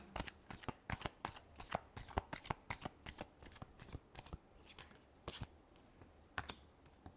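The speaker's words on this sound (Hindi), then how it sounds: "Last shuffle." Tarot cards being shuffled, a rapid run of crisp riffling snaps and flicks that slows toward the end, close and fairly quiet with no talk.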